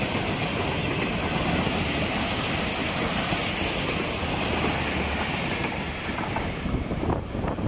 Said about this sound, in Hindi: रहमान बाबा एक्सप्रेस ने बड़ी अच्छी स्पीड में बिन कासिम रेलवे स्टेशन को थ्रू पास किया।